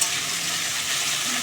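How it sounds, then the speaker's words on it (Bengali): Potatoes fry steadily in hot oil in a home kitchen pan, a dense continuous sizzle with light stirring, close and fairly loud, with no voices. "আর এদিকে দেখো চাউমিন করবো বলে আলু ভাজছি"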